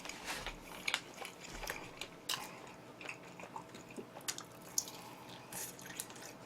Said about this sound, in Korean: 요 로스트 치킨부터 한번 먹어보도록 하겠습니다